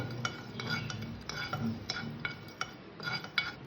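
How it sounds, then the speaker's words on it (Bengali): Whole spices including big cardamom stirred in a dry pan, giving repeated light scraping clinks and rattles at a steady, unhurried rhythm, close and moderately quiet with no talk. "এই মশলাটাকে আমি শুকনো খোলায় নেড়ে ভেজে নেব"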